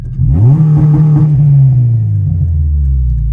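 A 250bhp EP3 Honda Civic Type R engine revs up sharply on launch control and holds at a steady high-pitched roar, then drops slightly, loud and close with no talking.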